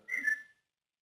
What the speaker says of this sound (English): Whistle. I just heard a whistle.